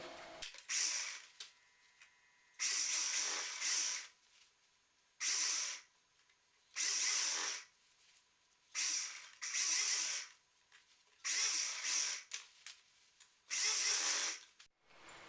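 Sewing machine stitching pleats on a side-pleated skirt: repeated bursts of fast whirring stitching, each lasting about a second, separated by short quiet pauses, close and fairly loud.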